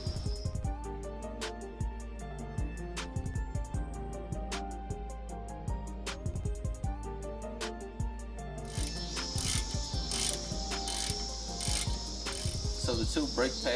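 A ratchet tightening a front brake caliper bracket on a Lincoln MKZ, a long run of quick, fairly faint mechanical clicks with no talk.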